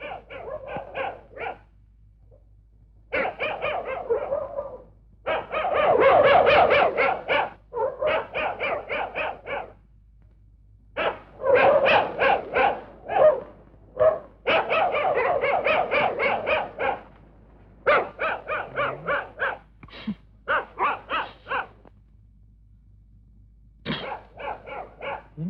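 Dogs barking in a Malayalam film scene, loud close bursts of repeated barks separated by short pauses, continuing throughout with occasional growls.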